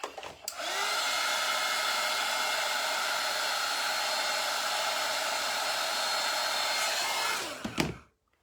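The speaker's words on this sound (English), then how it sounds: "Quick little dry with our heat tool." A heat tool blows a steady, loud hiss of hot air for several seconds while drying paint on handmade mushroom garden decor, starting and stopping abruptly, with no talking.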